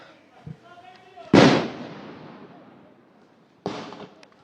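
Police shots fired at protesters on a Nairobi street ring out as sharp, loud bangs: one heavy blast echoes and decays over two seconds, and a second report follows close by after a pause, with faint voices between.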